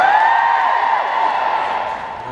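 A large convention crowd cheers and shouts together for pirates at a Supernatural fan event in the UK, a loud, sustained roar of many voices that tapers slightly toward the end.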